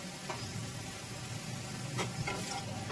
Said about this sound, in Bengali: একটু ভালো করে এটাকে নাড়িয়ে নিতে হবে।